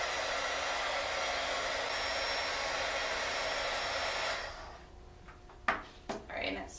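A heat gun blasting hot air over 3P QuickCure clay makes a steady, loud whooshing roar close by that cuts off partway through, followed by a few soft handling knocks and a person speaking.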